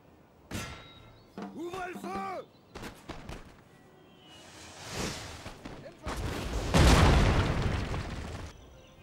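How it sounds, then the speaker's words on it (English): Several heavy booms of cannon fire in Napoleon: Total War, separated by gaps, amid synthetic whooshes and tonal effects, the last blasts loudest and longest. "right-click your mouse to order your cannons to attack"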